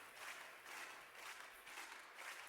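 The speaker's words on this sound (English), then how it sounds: "So this track right here is just claps." A clapping track from a crowd-simulation plugin made to turn a band rehearsal into a live arena concert mix: dense, continuous applause in rolling waves, quiet and heard alone.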